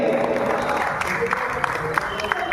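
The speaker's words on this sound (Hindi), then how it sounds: "जोरदार तालियां हमारी नवगत कलेक्टर मैडम के लिए।" An audience at a heritage-site event in India claps steadily for a newly arrived district collector, a dense, even wash of applause with a voice faintly present beneath it.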